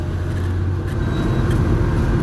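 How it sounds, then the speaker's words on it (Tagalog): Road traffic moving through a town on a diversion route produces a steady, loud low engine rumble from nearby cars and buses, with continuous road noise and no voices. "Ngayon traffic pa rin sa bayan."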